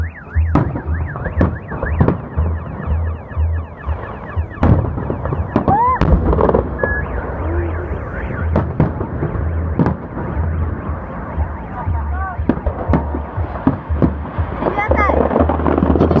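Victory Day fireworks salute on 9 May in Naberezhnye Chelny, repeated sharp bangs and crackling bursts at irregular intervals under a wailing car alarm, with people talking nearby.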